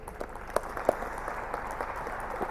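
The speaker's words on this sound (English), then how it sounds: "One more round of applause, ladies and gentlemen." Applause from an audience at a rain enhancement science award ceremony, a steady, moderately faint patter of clapping with a few sharper claps standing out, running throughout with no voices.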